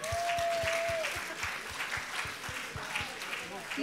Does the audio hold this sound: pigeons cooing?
no